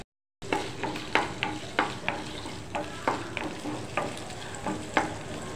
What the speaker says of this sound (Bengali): শুটকি মাছটা সুন্দর করে লাল করে ভেজে নিব।